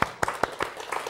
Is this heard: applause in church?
yes